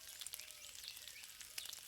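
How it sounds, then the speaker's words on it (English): Chicken pieces sear on full heat in a paella pan, giving a faint, steady crackling sizzle with small pops throughout. "you can hear the chicken sizzling and going"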